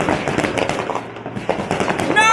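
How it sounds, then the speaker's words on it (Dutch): Fireworks bursting outdoors on a holiday evening, a dense run of loud crackling pops and bangs, close and continuous, with people talking over them. "Oh, dit vuurwerk."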